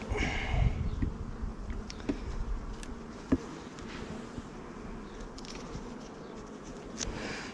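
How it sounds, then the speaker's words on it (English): Honeybees crowd the hive frames during a varroa mite treatment, buzzing in a steady close drone broken by scattered knocks and scraping from handling the frames. "there are plenty of bees on every frame"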